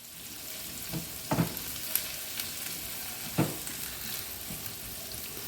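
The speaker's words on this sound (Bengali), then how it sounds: "পেঁয়াজটা দেখো আমাদের ভাজা ভাজা হয়ে গেছে" Steady frying sizzle with a few soft scraping stir sounds scattered through, close up and moderately loud, no talking.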